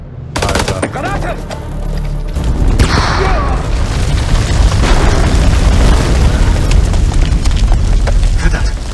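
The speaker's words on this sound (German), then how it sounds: "Granate!" A grenade goes off in the horror video game House of Ashes, a loud close boom that runs into sustained rumbling battle noise and gunfire.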